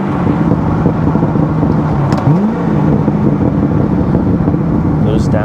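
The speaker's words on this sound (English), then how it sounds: "Those downshifts." A Corvette C6 Z06 with an LS7 V8 drones steadily from inside the car as it drives, the engine note blipping briefly as it downshifts under constant wind and road rumble.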